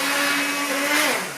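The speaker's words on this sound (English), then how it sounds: "I'm going to take out my immersion blender" An immersion blender whirs steadily through a cauliflower and apple curry soup, a loud, even motor drone that dips slightly in pitch near the end as it eases off.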